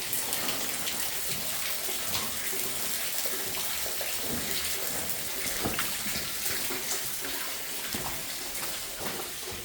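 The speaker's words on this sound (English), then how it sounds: "Lots of water leaking through the ceiling here." Water leaking and dripping steadily from the ceiling of an old mine tunnel beneath Pennsylvania streets, a dense wet patter of close drips and trickles that runs the whole time with no talk.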